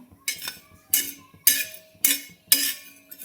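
Dry ginger and fennel seeds roasting in a pan, stirred with a utensil that scrapes and clinks against the metal in five regular, close strokes about half a second apart.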